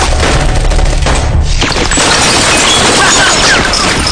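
Loud gunfire from an action film scene, with rapid bursts and fusillades mixed with crashes and booms, forming a dense, continuous barrage that fills the whole stretch at close range.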